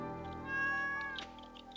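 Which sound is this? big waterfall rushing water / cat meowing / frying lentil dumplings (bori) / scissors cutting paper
cat meowing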